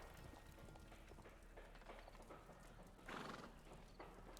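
A horse whinnies and hooves clip-clop faintly in the Sherlock Holmes: The Devil's Daughter video game, low in level under an ambient backdrop, with one brief louder burst partway through.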